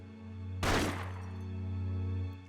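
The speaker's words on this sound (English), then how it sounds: "He fires, and the lens of the security camera in the room shatters to pieces, accompanied by the ear-splitting sound of gunfire." In Persona 4 Arena Ultimax, a single loud gunshot rings out in a room as a security camera lens shatters, a sharp burst with a brief crackling tail over a steady low hum.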